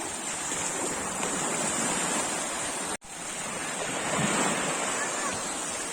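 Broadband roar of surf breaking steadily at the shore, with wind buffeting the microphone and a brief dropout midway.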